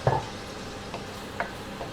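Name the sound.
onions frying and being stirred in a pan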